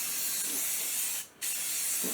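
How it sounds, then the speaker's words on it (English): Aerosol spray paint can of gumdrop gloss hissing in one steady, close burst that stops briefly and then resumes, with no talking. "We're just going to make sure that's spraying right."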